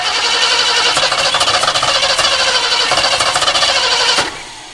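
A parked Ford Ranchero engine cranks continuously with a fast, steady rhythmic churn, loud and close, trying but failing to catch before the starter cuts off near the end.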